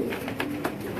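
Pigeons kept by a fancier, striped-band breed, cooing from close by inside their coop, soft repeated throaty coos in short bursts with a low steady background.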